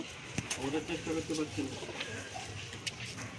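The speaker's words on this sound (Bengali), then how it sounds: "পায়রাগুলো এখনই উড়ে নামলো" Pigeons cooing softly just after landing, a few low repeated coos with faint wing and handling noises, while a person talks over them.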